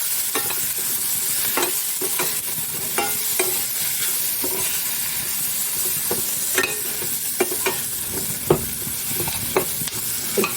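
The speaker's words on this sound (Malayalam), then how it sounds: "ഇട്ടിട്ടൊന്ന് ജസ്റ്റ് ഇളക്കി കൊടുക്കും" Chilli powder, coriander powder and garam masala are stirred in a hot frying pan, giving a continuous sizzle broken by repeated close scrapes and taps of the spoon against the pan, with no voices.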